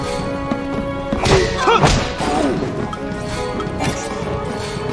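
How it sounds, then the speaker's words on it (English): A hand grenade blast in Final Fantasy XIII lands as a heavy, muffled thud and crash with a brief roar, set against continuous game music and effects. "Hand grenade."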